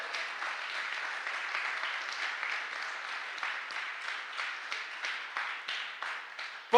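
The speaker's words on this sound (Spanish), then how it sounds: "Dele un aplauso al Señor Jesucristo." Congregation applauding during an evangelical church service, sustained clapping from a crowd at moderate level with irregular swells, lasting several seconds.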